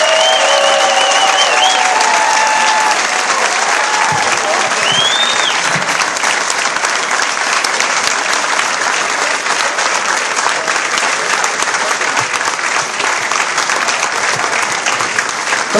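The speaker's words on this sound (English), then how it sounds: "Don't sit down. Keep giving applause." Sustained, loud applause from a political rally crowd at an endorsement event for a Senate candidate, dense and steady throughout with occasional whistles and cheers on top.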